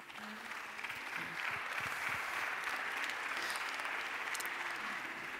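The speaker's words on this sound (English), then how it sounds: "join me now in thanking our panelists" A conference audience applauds the panelists, sustained even clapping from a large room, moderately loud and continuous from start to finish with no distinct voices.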